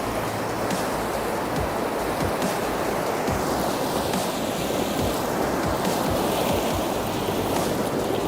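A mountain river in Kumrat valley, Pakistan, where the Kala Chashma and Do Janga streams meet, rushes in a steady, loud, close roar that never lets up, with no voices.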